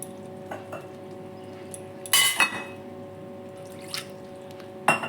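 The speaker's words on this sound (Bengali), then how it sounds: "বাটি ধোয়া জল দিয়ে দিলাম।" Water from rinsing a bowl is poured into a pot of omelette and potato curry, giving a short splashing pour with clinks of the bowl against the pot, then a second brief clink near the end.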